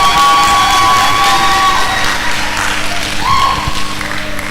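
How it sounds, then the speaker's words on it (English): A crowd gives a standing ovation at an International Women's Day celebration, producing loud, dense, sustained clapping mixed with cheers and scattered shouts that continue without a break. "please put your hands together and sustain the applause"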